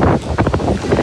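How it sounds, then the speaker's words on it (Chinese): Strong typhoon wind buffets the microphone at a fishing harbour in Kaohsiung, Taiwan, a loud continuous roar with gusty surges throughout. "风声大，雨点小。"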